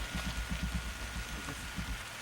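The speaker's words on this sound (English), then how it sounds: "It's raining." Light rain pattering steadily at a lakeside campsite on the Bowron Lakes, with soft low thumps of camp activity mixed into the continuous hiss; no one speaks.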